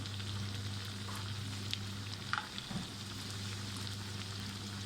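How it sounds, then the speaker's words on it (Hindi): Tikki patties fry in hot oil with a steady, soft sizzle and crackle, and a few brief pops and spatters stand out from the hiss. "यहाँ पे तेल हमने पहले से गरम कर लिया और इसमें हम ये टिक्कियाँ डालेंगे"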